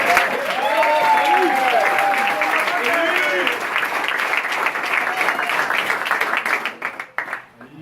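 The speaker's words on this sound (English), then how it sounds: "Please give them a round of applause." Loud, sustained audience applause fills a football banquet hall for honored players, with cheers and voices mixed into the dense clapping before it fades out.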